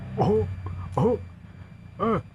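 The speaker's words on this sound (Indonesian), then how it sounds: "Riweuh eta batuk." Three short, voiced coughs come about a second apart, close and fairly loud.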